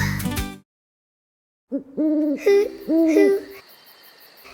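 Ruru, the New Zealand morepork owl, gives a series of clear hooting calls after a brief silence, its two-note hoots repeating in a steady rhythm with soft background ambience.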